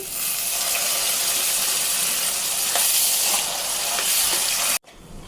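Ingredients for a fresh turmeric tamarind stew sizzle in a pan with a steady, loud broadband hiss and faint crackles, cut off abruptly near the end; no talking.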